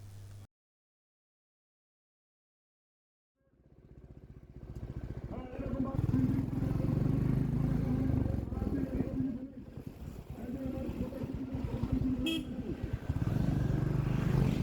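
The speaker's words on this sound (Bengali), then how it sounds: "হাইওয়েতে আমার হাজব্যান্ড বাইক খুব বেশি স্পিডে চালায় না" A motorcycle cruises on a highway at moderate speed, carrying two riders. After a brief silence, a steady engine drone and wind rush rise and hold, with passing traffic and a short horn toot.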